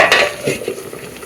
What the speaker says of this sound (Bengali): আর এখানে হবে বড়া ভাজা